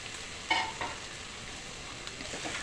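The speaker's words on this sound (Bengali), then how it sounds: "এবার এর মধ্যে ভেজে রাখা আলুর টুকরোগুলো দিয়ে দিলাম।" Fried potato pieces are stirred into spices in a pan, giving a gentle steady sizzle with a couple of scraping clatters from the spoon and no talking.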